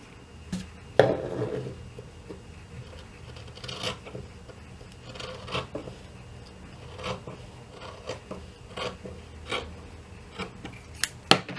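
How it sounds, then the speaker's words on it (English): Scissors snip and rasp through fabric trim for a Bible carry pouch, a quiet series of short cuts and rubbing scrapes spread irregularly through the recording, near and without any talking. "Oh, I can trim it more than that."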